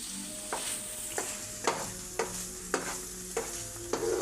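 Boiled potatoes stirred into a masala curry for aloo curry in a pan, a soft continuous simmer broken by about seven evenly spaced scraping strokes of a spoon, close by, with no voices.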